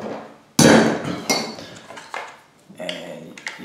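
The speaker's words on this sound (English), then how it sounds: "you break them open with the screwdriver" A screwdriver strikes and pries at the knockout flaps of an electrical box for a mobile home wall switch, giving several sharp, close metallic knocks and clinks spaced irregularly.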